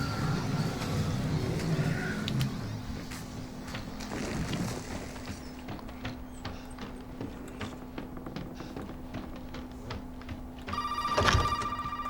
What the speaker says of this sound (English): thankfully we can actually ignore this phone call.